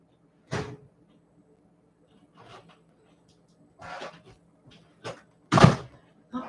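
A house door is opened to let a dog outside, heard as a few scattered knocks and thunks of the latch and frame, with a sharper bang near the end and quiet room tone between.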